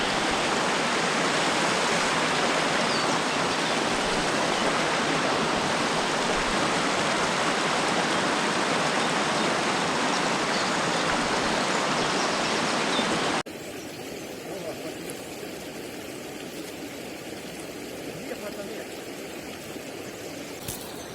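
A fast Carpathian mountain river rushes in a loud, dense, continuous roar, then turns quieter and more distant after an abrupt cut partway through.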